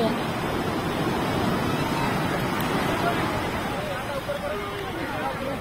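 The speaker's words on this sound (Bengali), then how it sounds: "ওই দেখ কত পাহাড়ের মতন ঢেউ আসছে।" Continuous roar of ocean surf at Puri beach with crashing waves and wind buffeting, while voices talk faintly underneath.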